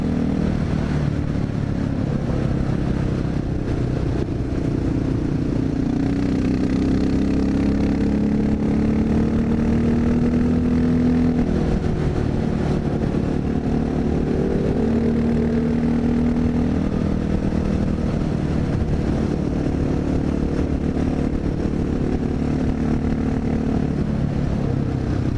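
A Honda XR650L dirt bike on knobby tires runs along a mountain road, its engine a steady loud drone with gentle pitch rises and falls through the curves, mixed with continuous wind rush and no talk.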